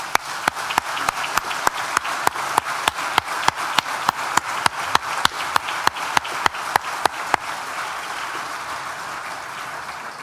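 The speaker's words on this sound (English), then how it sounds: "please join me once again for a big collective round of applause" Audience at a university graduation ceremony for a school of architecture and design applauds steadily, a dense wash of many hands clapping with sharp, evenly spaced beats standing out, loud and continuous before easing off at the end.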